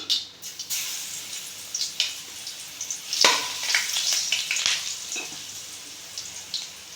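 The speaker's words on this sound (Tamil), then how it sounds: "இப்போ எண்ணெய் காஞ்சிருச்சு இதில் வந்து கடுகு போட்டுக்கலாம்" Mustard seeds fry in hot oil, making a continuous close sizzle dotted with sharp crackles and pops that rise and fall over several seconds. No voices are heard.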